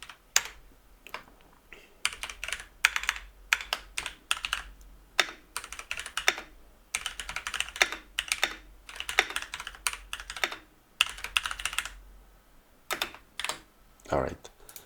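Steady computer keyboard typing while building a device in Ableton Live, with rapid clusters of close, crisp keystrokes and short pauses between bursts.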